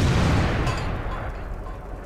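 An M4A3E2 Jumbo tank's cannon fires in World of Tanks as one loud, deep boom that rolls away and fades over about two seconds.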